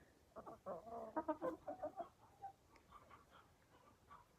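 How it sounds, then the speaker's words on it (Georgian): Chickens clucking as they stroll about a village yard on a quiet morning, a burst of close, rhythmic clucks that fades into softer, scattered calls. "როგორ დასეირნობენ ქათმები."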